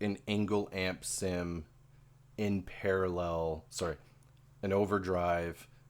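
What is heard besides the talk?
No everyday noises stand out.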